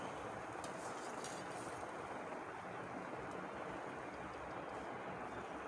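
Minced meat and bitter gourd fry with tomatoes in a pan, a continuous, even sizzle that stays soft and unbroken with no voices.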